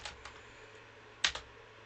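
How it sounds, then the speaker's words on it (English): A few quiet computer keystrokes click close by, two light taps early and a firmer pair later, with near silence between. "So I'm going to type that in."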